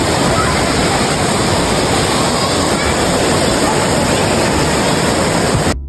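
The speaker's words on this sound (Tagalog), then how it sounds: "maririnig mo na agad ang malakas pero nakaka-relax na lagaslas ng tubig" Loud, steady roar of rushing water from Nabaroto Falls in San Andres, Quezon, continuous and broadband, cutting off abruptly at the end.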